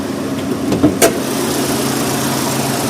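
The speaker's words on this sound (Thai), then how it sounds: "เครื่องยนต์เดินนิ่งเรียบเงียบเช่นเคยนะครับ" A Toyota Corolla Altis engine idles with a steady, smooth low rumble, close and continuous, with a couple of brief clicks early on.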